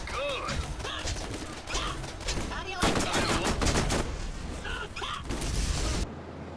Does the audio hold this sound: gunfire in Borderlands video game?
yes